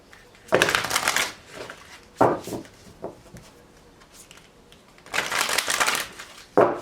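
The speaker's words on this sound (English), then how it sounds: "2 more shuffles for Libra." Tarot cards being shuffled in several bursts, crisp riffling and sliding up close, separated by short quiet pauses.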